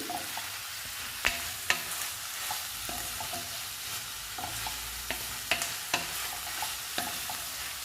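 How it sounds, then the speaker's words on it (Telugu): Carrot and capsicum stir-fry with ginger-garlic paste in a pan, a steady close sizzle broken by repeated sharp scrapes and taps of a spatula, with no voices over it. "క్యారెట్, క్యాప్సికము, అల్లం వెల్లుల్లి పేస్టు అన్నీ కలిపి వేయించుకోవాలి."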